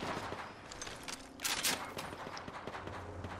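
Gunfire in the video game Apex Legends comes as scattered shots and a short louder burst in the middle, sharp cracks against busy game noise.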